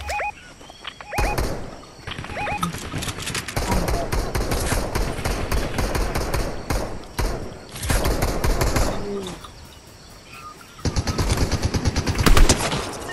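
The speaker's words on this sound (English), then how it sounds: "someone's shooting at me" Rapid bursts of automatic gunfire crackle in a Fortnite squad match. Volleys repeat with short gaps, some near and some farther off, alongside in-game effects and a player talking.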